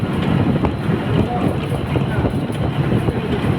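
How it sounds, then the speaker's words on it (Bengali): Loud, steady wind rushes and buffets through the open window of a moving bus traveling past green countryside, a continuous roaring rumble with no break. "নির্মল হাওয়া"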